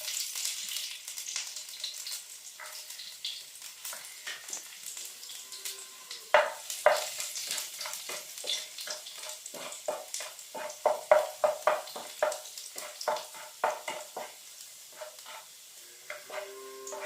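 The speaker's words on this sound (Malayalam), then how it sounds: "ഇതേ എണ്ണയിലേക്ക് തന്നെ 3 കഷ്ണം വെളുത്തുള്ളി ചെറുതായിട്ട് അരിഞ്ഞാണ് അത് നമുക്കിട്ട് കൊടുക്കാം" Three cloves of finely chopped garlic fry in reused oil, a soft continuous sizzle broken by frequent crisp stirring clicks and scrapes of a utensil against the pan, growing busier midway.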